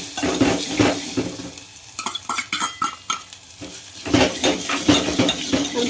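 A spoon clinks and scrapes inside a pot as tomato and chili are stirred in hot oil, with a soft sizzle beneath the irregular metallic knocks, close and fairly loud.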